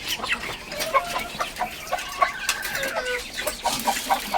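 Backyard chickens clucking in a keeper's area, continuous overlapping soft clucks and short calls from several birds close by, steady throughout with no voices.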